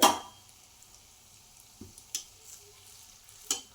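Malpua batter ladled into hot oil in a home kitchen, a sharp initial splash-sizzle followed by quiet, faint bubbling with a few brief clicks and pops.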